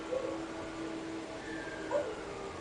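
Dogs bark, yip and whimper faintly in the distance near a rural house yard at night, scattered short calls over a steady hiss.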